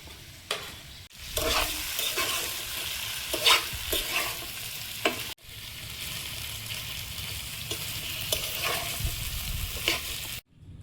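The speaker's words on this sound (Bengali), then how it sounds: "আলুটা হাফ ভাজা হয়েছে, এবার পটলটা দেবো। পটলটা দিলে তো তাড়াতাড়ি ভাজা হয়ে যায়।" Potatoes and pointed gourd frying in a pan while being stirred, a loud close sizzle with repeated scraping strokes, broken by two brief cuts to silence, no voices.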